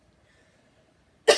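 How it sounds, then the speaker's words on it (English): A woman gives a single sharp cough after near silence, loud and close. "I'm coughing so much"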